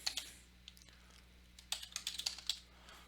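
Typing on a computer keyboard, quiet close key clicks in scattered bursts, sparse at first, then a quicker run of taps.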